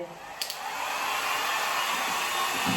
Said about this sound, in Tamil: ஹேர் ட்ரையர் இருக்குது நம்ம கிட்ட ஹேர் ட்ரையர் போட்டு